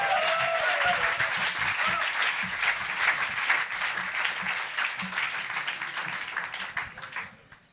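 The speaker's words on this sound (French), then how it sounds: "Allez, encore un tonnerre d'applaudissements parce que c'est une véritable performance." An audience breaks into sustained applause after a musical performance, a thick continuous roar of many hands that holds steady for several seconds and then fades away.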